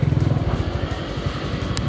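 A motorcycle ride, with a close, pulsing engine drone that throbs rhythmically throughout, loud and steady with slight variations in pitch.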